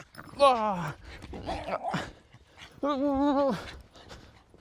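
A small muddy dog plays outdoors, giving two clear whiny yelps or whimpers with pants in between, close and fairly loud, while a person talks playfully to it between the sounds.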